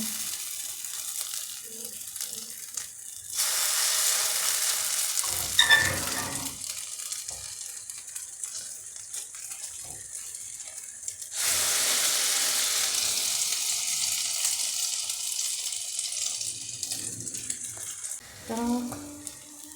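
Potato pancakes sizzle and crackle in hot oil in a frying pan, the spitting swelling in two long bursts between quieter stretches, with a few soft kitchen clinks.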